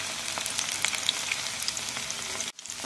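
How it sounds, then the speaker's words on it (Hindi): Fish pieces for pakora drop into hot oil and fry with a continuous crackling sizzle, full of small pops. A short dip in the sound comes just before the end. "हम ऑयल में अपने पीसीस डाल देंगे जो हमने फ्राई करने के लिए रेडी किए हुए थे"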